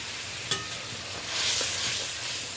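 Spice masala cooking down in oil in a pan with salt added, a steady close sizzle with a light scrape or two of stirring and no voices.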